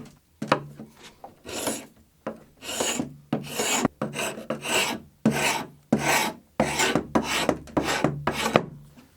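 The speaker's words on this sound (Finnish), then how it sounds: "Joten alan kaapia lakat pois." Varnish being scraped off a wooden bicycle-style frame by hand, a series of loud, raspy scraping strokes in an uneven rhythm, close up, with brief pauses between pulls.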